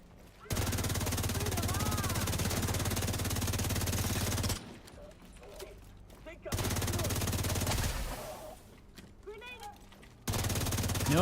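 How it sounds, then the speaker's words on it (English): Gunfire from an enemy in a shooter video game, long sustained bursts of rapid automatic fire broken by short pauses, loud and close, with voices speaking in the gaps. "where is he shooting me from?"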